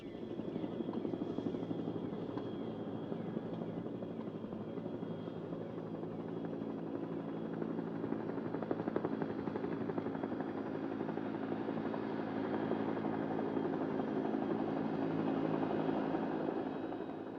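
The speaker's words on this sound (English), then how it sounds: "the helicopters are on their way to resupply the forts" A helicopter drones steadily throughout, its rotor and engine hum constant and moderately distant, with no voices, flying over Borneo jungle in 1966.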